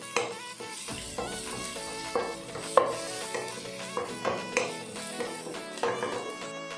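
Onions browning in a pan for a creamy sipo dish, giving a steady close sizzle and fry with repeated light stirring scrapes and soft clinks of a utensil against the pan, with no talk.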